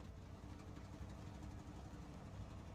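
A truck engine in the off-road driving game Snowrunner churns through mud in hard mode, a faint, steady low rumble without talk.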